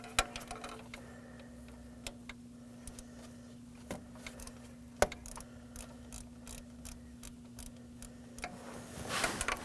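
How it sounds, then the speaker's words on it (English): A ratchet fitted with a 10mm socket works loose a bolt while replacing the exhaust camshaft position sensor on a 2018-2024 Chevrolet Equinox, giving sparse, quiet clicks and ticks over a low steady hum, ending in a brief louder rattle. "I'm going to use a 10mm socket on the ratchet to remove the bolt"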